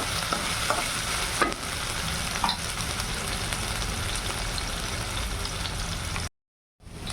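Spices and potatoes fry in hot oil for a traditional bhagar amti, giving a steady, dense close-up sizzle with faint stirring scrapes; the sound cuts out briefly near the end before resuming.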